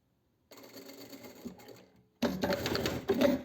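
A sewing machine stitches a gathered, shirred midi dress with elastic thread, running in a short burst, pausing briefly, then resuming in a louder, steadier whir with mechanical clatter.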